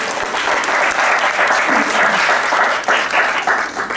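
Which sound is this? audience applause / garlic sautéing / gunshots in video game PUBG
audience applause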